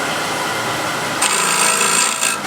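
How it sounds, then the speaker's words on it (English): A hand scraper works across a piece of wood to flatten a shallow hollow, giving a steady, close raspy scrape that turns brighter and harsher midway and keeps going without pause. "And I'll just use the scraper here to get a nice flat bottom or slight curve."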